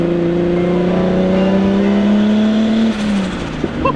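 Turbocharged Nissan Skyline GTR engine held at a loud, rising rev close by, a steady climbing drone for about three seconds before the throttle drops and the note falls away with a brief turbo flutter.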